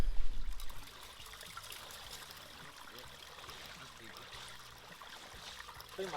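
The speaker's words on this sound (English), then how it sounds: "we're gonna go ahead and break open the floodgates once the sluice is put in there" Water trickles through a gold sluice set in a creek, a soft, steady, faint flow that continues throughout.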